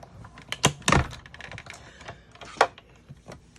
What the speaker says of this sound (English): we will run this through our embossing folder